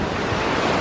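Rushing river water in Asheville roars in a steady, loud broadband wash at close range, mixed with wind buffeting, with no talking over it.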